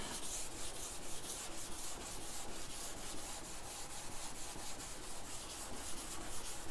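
A Ford Bronco's primer is dry sanded with 320-grit paper, giving a continuous close rasping rub in quick, even back-and-forth strokes with no pauses.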